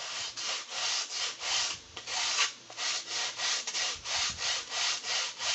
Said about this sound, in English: I'm going to take my sanding stick here